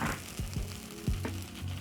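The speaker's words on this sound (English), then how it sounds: "So as I'm starting, I'm toasting the rice." Rice toasting and sizzling in a pot for a one-pot beef and rice dish, a steady close sizzle broken by a few soft stirring knocks and scrapes, with no voices.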